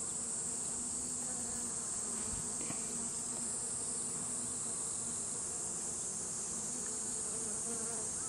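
Nurse bees hum around a caged queen cell in a hive frame, a dense, close, continuous buzzing with no pauses and no voices.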